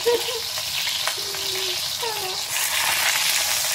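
A leg of lamb frying in hot oil gives a close, steady sizzle with crackling spits and a louder burst of frying near the end, heard alone without talk.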